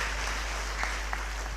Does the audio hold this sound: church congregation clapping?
yes